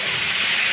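Water poured into a hot pan of fried potatoes, a loud, steady steam hiss filling the short moment, close and continuous with no voice.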